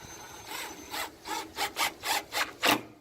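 A screw being driven by hand into an aluminum diving board surface mount on a Harris 240 Sunliner pool, its greased tip cutting threads with a series of rhythmic, scraping grinds that grow louder toward the end, close up and without talk.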